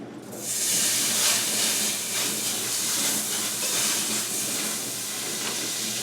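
Butter sizzling in hot oil in a pan, a steady loud hiss and crackle that swells in within the first half second and holds evenly to the end, with no talking.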